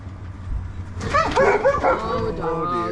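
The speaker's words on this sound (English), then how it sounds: "Oh, dogs. Oh, dear. Here they go." Several dogs bark and whimper close by in a house, with yips and whiny cries rising over a low background hum, clustered in a short excited burst.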